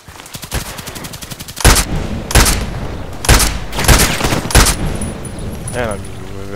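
Sniper carbine shots in the video game Contract Wars ring out as five loud, close reports about half a second to a second apart, over faint rapid background fire.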